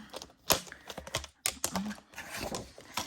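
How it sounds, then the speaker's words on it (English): A paper trimmer cutting a sheet down to 8 inches for a card project: quiet irregular clicks and a few scraping slides of the blade, close and soft. "grab your trimmer out and we're going to cut it to 8"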